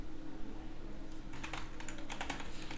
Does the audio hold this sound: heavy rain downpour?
no